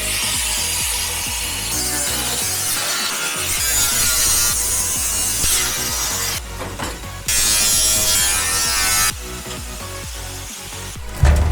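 A power cutting tool grinds and rasps steadily through rotten sheet metal on an AE86 trunk, loud and close, pausing briefly and then resuming.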